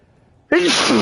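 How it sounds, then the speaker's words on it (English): A single sharp sneeze bursts in after a moment of near silence, close and loud, with a breathy start rising into a strong voiced blast. "sneeze again."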